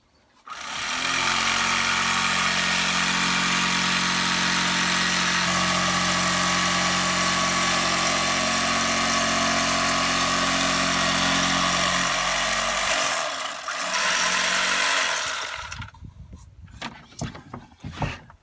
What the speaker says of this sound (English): the electric carving knife seemed to cope quite well